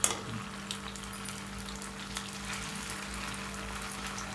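Cauliflower pakora frying in hot oil, a steady close sizzle and crackle with a constant low hum underneath and a few small pops near the start.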